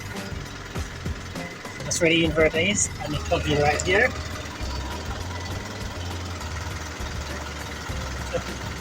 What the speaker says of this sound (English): You can hear the engine of the truck running